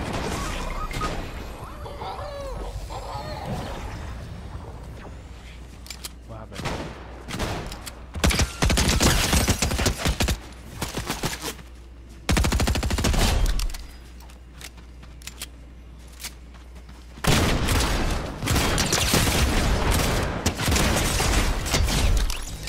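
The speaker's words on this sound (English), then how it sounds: "Oh, getting shot at." Incoming gunfire in Fortnite arrives in loud bursts of rapid shots and crashing impacts, separated by quieter stretches of game noise and a low hum.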